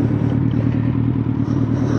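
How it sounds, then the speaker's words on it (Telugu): Kawasaki Z900 inline-four engine fitted with an IX Race exhaust, idling or running steadily close by, a loud, even growl with no talk over it. "ఆ ఇన్లైన్ 4 సింఫనీ అనేది వేరే ఏ బండి మ్యాచ్ చేయలేదు"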